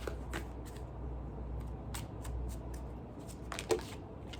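Tarot cards being shuffled and drawn during a reading, heard as soft, steady shuffling with scattered light flicks and snaps, close and quiet.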